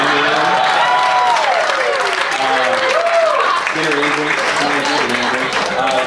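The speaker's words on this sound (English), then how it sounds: "we'd like to give a special cheer for Tina and Jono" Party crowd clapping and cheering for a couple, loud applause mixed with voices and shouts close by, continuous for several seconds with people talking through it.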